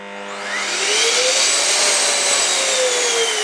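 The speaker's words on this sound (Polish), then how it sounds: "Czyli tak, włączam odkurzacz." A Zelmer Aquawelt 919 vacuum cleaner (1600 W, upholstery washing model) switches on and spins up to a loud, steady roaring whine with a rising motor tone, running continuously and close by, with no talk.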